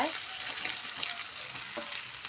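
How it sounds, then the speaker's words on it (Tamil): Soybeans stir-fry in a hot pan, giving a close, steady crackling sizzle with light scraping and stirring noises throughout and no voices. "இந்த இதை போட்டு பரட்டி எடுத்துக்கலாம் சோயாபீன்ஸை"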